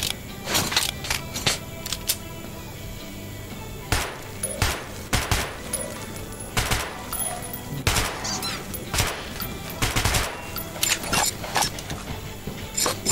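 On a firing range in the video game Metro 2033 Redux, sharp gunshots ring out in irregular single cracks and short bursts, some loud and close, spread across a quiet background.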